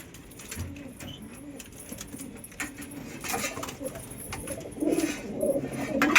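Pigeons coo softly inside a pigeon house, with low murmuring calls and light rustling and clinking nearby as their feed and water containers are handled.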